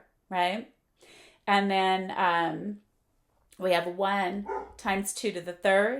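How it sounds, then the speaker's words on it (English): Dogs bark intermittently in the background of a math lesson on sequences, several sharp yaps mixed in among steady speech from a teacher talking over them. "sorry about the dogs"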